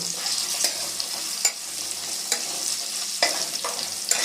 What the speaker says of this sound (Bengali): প্রথমেই আমি আলুটা দিয়ে দেবো আলুটা একটু নাড়াচাড়া করে নেবো